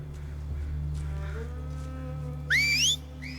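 A short two-note Seraphite whistle from The Last of Us TV series, season 2 episode 3, rising and bright, heard near the end over a steady low hum and faint background sounds.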